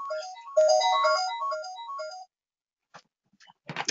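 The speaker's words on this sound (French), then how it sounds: "c'est le célèbre téléphone" A telephone ringtone plays a bright, stepped electronic melody for about two seconds, then cuts off into near silence broken by a few faint clicks and a short noisy burst at the end.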